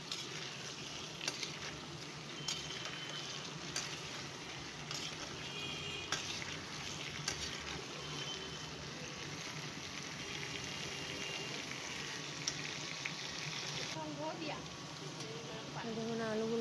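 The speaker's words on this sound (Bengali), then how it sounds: "তো আলুগুলো আমি একটু হালকা হালকা ফ্রাই করে নেব।" Potato pieces frying lightly in a pan for a fish curry, giving a steady soft sizzle that runs the whole time with occasional small crackles, with some talk over it.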